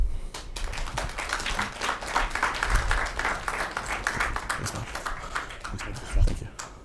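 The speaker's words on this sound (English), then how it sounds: "Let's keep that round of applause going for Hassan." After a speech, an audience claps in a sustained, fairly close round of applause, with voices audible under the clapping and a couple of louder thumps.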